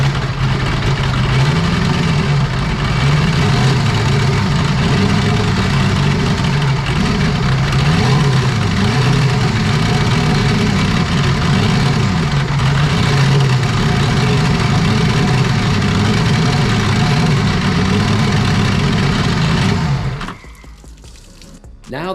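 A turbocharged V8 in a jet ski idles steadily and loudly for about twenty seconds with a rough low rumble, where small throttle sensor spikes show at idle, before the engine abruptly cuts off.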